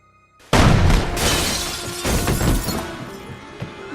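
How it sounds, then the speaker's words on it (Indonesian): A single sharp gunshot blast in an action film scene, loud and sudden, with a crashing, shattering tail that decays over a few seconds. "akibat tembakan itu Emma harus meregang nyawa"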